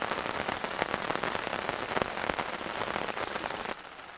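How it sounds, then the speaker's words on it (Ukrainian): Steady rain patters on a surface, a dense continuous hiss with scattered louder drops, no voices. "Хоч менший, але дощ все падає."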